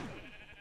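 One sheep bleats in Minecraft, a short wavering falling cry heard up close against quiet game background, with no talking.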